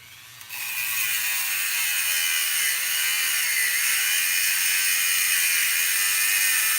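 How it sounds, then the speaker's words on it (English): Dremel rotary tool cutting, a steady high-pitched whirring grind that starts abruptly after half a second and holds loud and constant to the end, with no talk. "And I could cut it with my Dremel"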